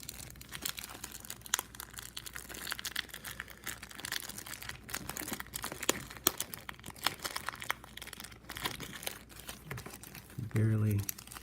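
Taped packaging around vintage 1923 Paulin's Candy hockey cards crinkles and tears steadily at close range, with quiet talk running over the rustling.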